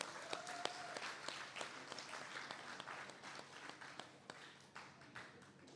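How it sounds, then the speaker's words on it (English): Audience applause for speakers at an IBS debate, a spread of claps of moderate strength that carries on steadily for several seconds, with no voices over it. "let's give them an applause."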